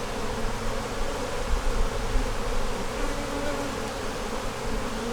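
Honey bees buzz at an open hive in a dense, steady drone, close and continuous, with no break throughout.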